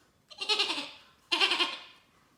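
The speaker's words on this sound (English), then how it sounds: "On a boat stood a goat who was bleating loudly." A goat bleats loudly twice, two clear, close, wavering cries separated by a short pause with quiet in between.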